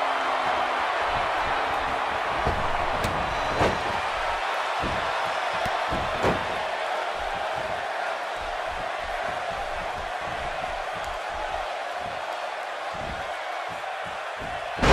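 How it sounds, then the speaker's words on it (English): A wrestler slams an opponent onto the mat in the WWE 2K18 video game during a 205 Live match, Austin Aries against Lince Dorado, with sharp thuds over steady arena crowd noise and a commentator talking. "He slams him down with authority."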